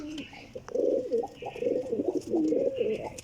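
A Piplana pigeon coos close by in a series of soft, throaty, rolling calls, repeating steadily.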